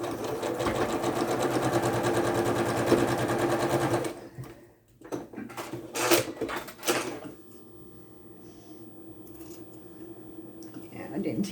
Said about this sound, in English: we're going to stitch this side